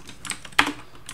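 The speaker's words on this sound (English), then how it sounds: "No, I'm going to type it out." Quick keystrokes on a computer keyboard, a short run of close, crisp clicks with one sharper tap in the middle.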